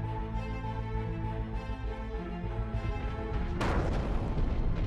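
A sudden, massive broadband blast erupts near the end, following steady droning noise, and keeps roaring loudly to the close: the huge Beirut explosion.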